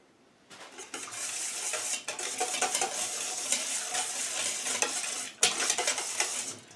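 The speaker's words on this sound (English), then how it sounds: "you're going to whisk it again" A whisk beats a mixture in a bowl with quick, continuous scraping and clinking strokes, close and fairly loud, with a short break midway.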